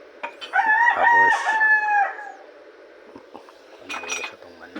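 A backyard rooster crows loudly once, followed by further shorter calls, with faint clatter of dishes and plates nearby in the morning.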